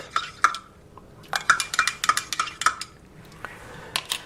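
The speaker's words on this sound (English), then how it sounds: "I'm going to just stir it a little bit" A metal spoon stirs coffee with creamer in a cup, producing a quick series of bright, close clinks against the sides in an uneven rhythm, with quiet pauses between bursts.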